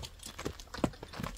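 A horse from Shüi makes a few soft hoof clip-clops in a brief, uneven walking rhythm, heard close by and fairly quiet, with no voices over it.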